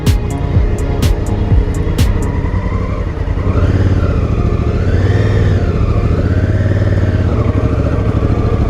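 Honda Africa Twin motorcycle riding off road, its engine droning loud and close, rising and falling in pitch as the rider works the throttle, with a few clicks early on.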